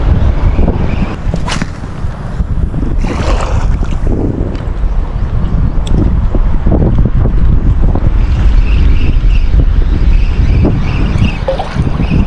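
Strong wind buffets a small fishing boat at sea under a stormy sky, a constant heavy roar of gusts and microphone rumble with occasional whipping flaps, loud and unbroken throughout.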